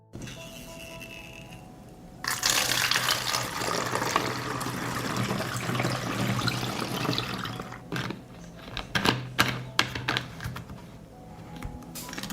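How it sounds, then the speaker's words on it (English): A plant-based soap solution is poured into a garden sprayer, a close splashing trickle starting after a quiet moment and running for several seconds before breaking into a few irregular drips and knocks. "I pour the solution into the sprayer."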